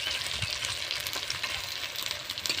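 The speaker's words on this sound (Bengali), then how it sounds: "খুব ভালো করে কষিয়ে নেব মশলাটাকে" Masala paste of ginger, cumin and dried red chilli sizzles in a pan as it is stirred, a steady close crackling hiss with soft scraping throughout.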